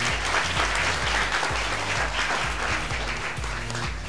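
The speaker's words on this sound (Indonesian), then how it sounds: "tepuk tangan boleh" A school-event crowd applauds steadily throughout, with dense overlapping claps; a low rhythmic musical thump runs underneath.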